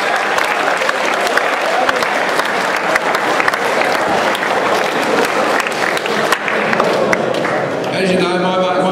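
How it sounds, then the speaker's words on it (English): A crowd gives a long, loud round of applause, sustained dense clapping filling the whole stretch with little variation, with some voices mixed in near the end. "give yourselves a great big round of applause"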